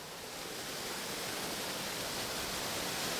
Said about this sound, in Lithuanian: Čia jau vandens siena, pro kurią nepraeisiu niekaip.